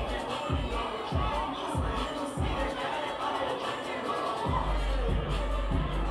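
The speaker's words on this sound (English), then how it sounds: "Show Ricardo, show them this crowd right here." A crowd at a Labor Day birthday bash party venue, a loud, busy murmur of people with thumping bass hits underneath and occasional shouts and cheers.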